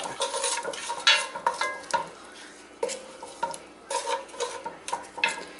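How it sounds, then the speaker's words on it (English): Greek meat sauce with grated onion sizzles in a pan while a spoon stirs it in uneven bursts, scraping and clicking against the metal over a steady frying hiss, close and clear with no talking. "We're just going to burn that off a little bit. And then I'll mix it up."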